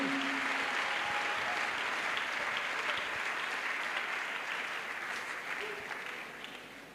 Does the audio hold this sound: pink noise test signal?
no